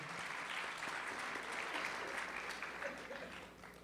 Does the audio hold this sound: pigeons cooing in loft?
no